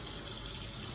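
Tap water runs steadily into a container in a kitchen sink, a continuous hissing rush heard close and alone with no voices.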